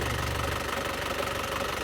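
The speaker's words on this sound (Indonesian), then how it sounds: "Dan seperti ini untuk kondisi mesinnya masih sangat halus" A 2016 Isuzu Panther LS Turbo diesel engine idling smoothly, a steady close low rumble with a fine rattling texture, continuous and unchanging throughout with no voices.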